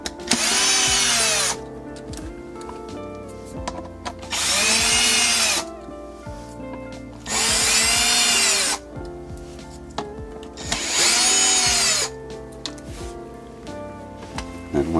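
A power drill backs out T20 Torx screws holding a Lexus LX factory subwoofer, running in four loud, sustained whirring bursts of about a second and a half each, separated by quieter pauses with faint handling sounds.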